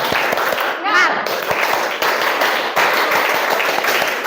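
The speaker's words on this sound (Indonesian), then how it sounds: "Ayo tirukan Ais ya. Tepuk semangat." A classroom of students does a rhythmic spirit clap during a teacher-training lesson, with sharp, evenly spaced claps close by and voices joining in between the beats.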